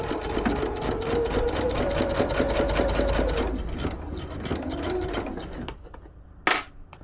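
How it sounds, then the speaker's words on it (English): A sewing machine sews a straight line across a reversible fabric bag in one long, even, close whirring run that slows and stops, followed by a few small handling clicks. "So all you do is sew straight across where you have"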